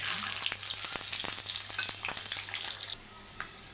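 Peanuts dropped into hot oil with popped mustard seeds, for a flattened-rice (poha) upma, crackle and spit in a busy, close sizzle of rapid pops that suddenly drops to a quieter hiss near the end.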